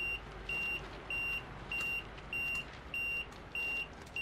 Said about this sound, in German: Finde ich auch sehr realistisch, dass man das Piepsen jetzt hier noch hört.